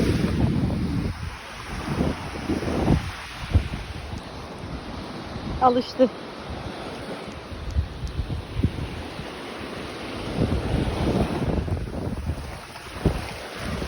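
Rough sea waves wash and churn under strong gusting wind buffeting the microphone at the shore, with a brief voice partway through.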